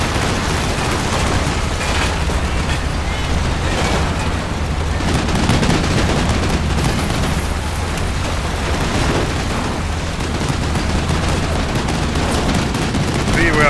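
Battle sounds in the WWII strategy game Combat Mission Final Blitzkrieg, with dense rattling machine gun fire and distant booms mixed continuously throughout.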